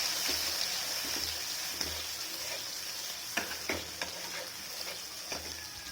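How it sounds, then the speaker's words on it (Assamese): A spoon stirs mustard paste through fish curry in a hot pan, with steady soft sizzling and light scraping taps that grow more frequent toward the end. "এতিয়া মই পিচি থোৱা সৰিয়হৰ পেষ্টটো দি দিছোঁ। ভালদৰে মই লৰাই দিছোঁ।"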